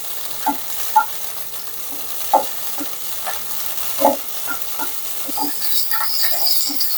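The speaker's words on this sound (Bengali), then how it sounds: "মরিচগুলোকে আমি এভাবে হালকা হালকা করে মাঝারি আছে ভেজে নেব" Green chillies fry in hot oil in a pan, giving a soft continuous sizzle broken by several sharp spits and pops and light stirring clatters, close up with no voices.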